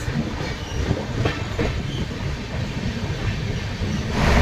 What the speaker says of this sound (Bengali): ট্রেন সাঁতরাগাছি স্টেশন থেকে বেরিয়ে যাচ্ছে